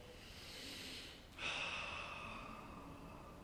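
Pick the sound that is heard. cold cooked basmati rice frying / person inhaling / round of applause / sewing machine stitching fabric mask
person inhaling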